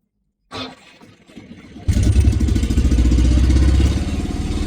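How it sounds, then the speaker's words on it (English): A 48v DC generator engine cranks over with a brief starter whirr, then catches and settles into a loud, steady, throbbing run close by. "And we'll start again."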